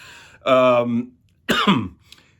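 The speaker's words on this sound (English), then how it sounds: "I'm struggling here with a cough." Two short bursts of coughing close up, the first harsher and voiced, the second a brief hacking cough, with quiet gaps around them.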